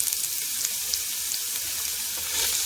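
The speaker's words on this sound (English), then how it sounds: "and I'm just going to add the onions" Onions fry in avocado oil, a dense, loud, close sizzle with a steady hiss and small crackling pops throughout, with no talking.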